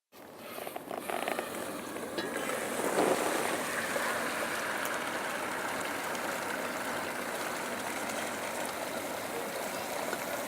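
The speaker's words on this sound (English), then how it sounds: "That's what happens when the liquid nitrogen is actually boiling." Liquid nitrogen poured into a bowl boils off in a steady, loud hissing, bubbling rush that rises quickly and holds without pause, with no talk over it.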